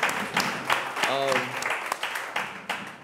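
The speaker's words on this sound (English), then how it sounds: "So give him 2 rounds of applause." Sustained audience applause fills a panel session at a 2015 healthcare leadership conference in the Hamptons. The dense, steady clapping continues throughout, and a voice briefly speaks over it midway.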